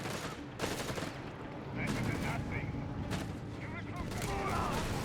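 Battle din from Company of Heroes 3 around a US Forces M1 anti-tank gun facing the Afrika Korps, with repeated gunfire and artillery-like booms layered over a continuous roar of combat, loud and dense throughout.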